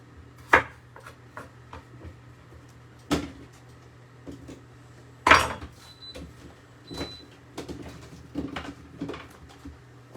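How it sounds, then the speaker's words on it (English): Baby potatoes are cut in half with a kitchen knife on a board: a handful of sharp, separate chops spaced a second or two apart, fairly close and quiet, with soft handling noises between them. "I'm going to take some of these bigger ones and chop them in half"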